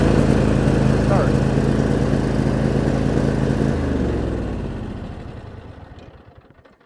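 Kohler 7000 series engine on a Cub Cadet riding mower cranks, catches and runs with a loud steady drone, then winds down and fades toward silence near the end.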